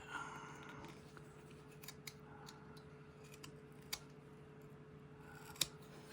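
A carving knife makes small paring cuts in wood, a few faint scattered clicks and scrapes over a quiet steady hum.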